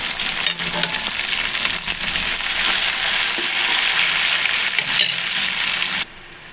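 Tomatoes fry with ginger garlic paste for a spicy fish curry, a loud, close sizzle with stirring scrapes that cuts off abruptly near the end.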